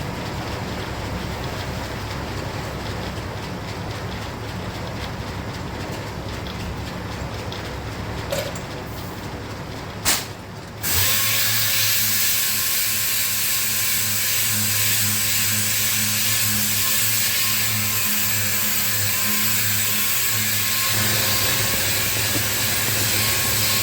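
A power tool polishing bare body metal on a 1957 Chevy in a ventilated booth gives a steady, loud whirring grind; it briefly cuts out near the middle, then restarts as a higher, harsher continuous whine.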